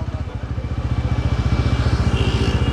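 A motorcycle engine idles close by with a steady rapid chugging pulse while the bike is parked beside a roadside tea stall on a busy Aligarh night street.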